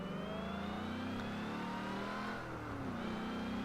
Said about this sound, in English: when we're in third gear and we shift down to the second and let the clutch off, the rear wheels will sort of break traction momentarily